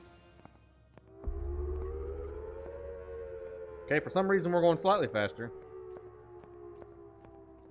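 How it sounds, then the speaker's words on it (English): An air raid siren in a Silent Hill-style horror video game, a long, steady wail rising slightly in pitch over a low rumble, with someone talking over it partway through. "This is your favorite Silent Hill track, the air raid siren."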